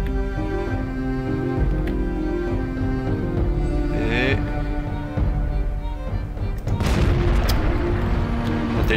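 Tank cannon fire booms in a World of Tanks battle, with heavy blasts and a rumbling engine bed under layered game effects, loud and close.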